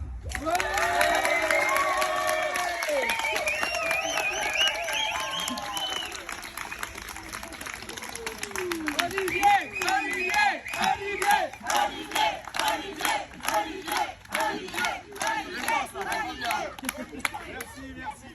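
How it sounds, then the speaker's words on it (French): Loud crowd at a French project presentation cheers, whoops and applauds, with shouts and chatter mixed in and clapping building into dense rhythmic bursts toward the end. "je vais vous demander d'applaudir bien fort et de faire énormément de bruit pour mon incroyable chef de projet, Olivier Legrain"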